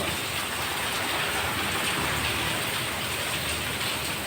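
Heavy rain coming down outdoors in a dust-raising shower, producing a continuous broadband wash of drops on surfaces, steady and unbroken from start to finish.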